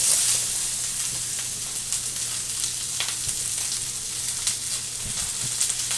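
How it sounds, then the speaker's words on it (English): Onions sizzle loudly in hot oil during a stir fry, a dense continuous crackle with scattered pops and a low steady hum running underneath throughout. "They want to stir fry the meat and the vegetables with oil"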